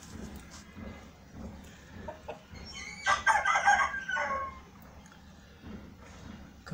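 An Aseel gamecock crows once, loud and close, for about a second and a half, with a few softer clucks and faint background noise before and after.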